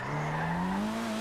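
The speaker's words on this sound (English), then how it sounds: "Oh, there was some serious acceleration by the car." An old-school racing car in the video game GTA 5 accelerates hard, its engine tone climbing steadily in a loud, continuous whine with no voices over it.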